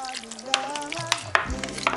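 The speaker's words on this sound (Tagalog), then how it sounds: "paglalahok-lahokin na po natin itong ating mga ingredients sa ating bowl" Drained fruit salad ingredients being stirred in a bowl, giving scattered soft clinks and wet mixing scrapes, fairly close and alone.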